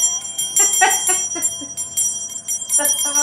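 A bell rings repeatedly in a quick irregular series of bright, close strikes, each leaving a shimmering ring that overlaps the next, with a short lull before a final burst of chimes.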